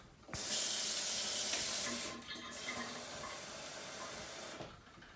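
Water runs steadily from a kitchen tap, starting with a loud, bright rush that eases slightly after a couple of seconds and keeps flowing until it stops near the end.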